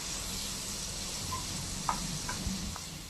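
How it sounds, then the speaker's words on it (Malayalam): Tomatoes, dried red chilies and ginger-garlic being mixed in a hot pan, with a steady low sizzle and a few soft utensil clicks near the end, no voices. "തക്കാളി, നമ്മളുള്ള വറ്റൽമുളകും ജിഞ്ചർ ഗാർലിക്കും എല്ലാം കൂടി ഇട്ട് നന്നായിട്ട് ഒന്ന് മിക്സ് ചെയ്യാം."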